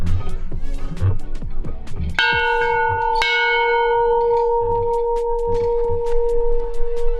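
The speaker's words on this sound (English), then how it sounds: "Let's ring the bell." A large bell rings out twice, each strike clanging and then humming with a long ringing sustain, loud and close, between moments of muffled background bustle.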